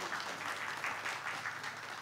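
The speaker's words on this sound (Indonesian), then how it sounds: "Boleh minta tepuk tangannya sekali lagi." Audience applause at a launch event, a steady dense wash of clapping that holds at an even level throughout with faint voices mixed in.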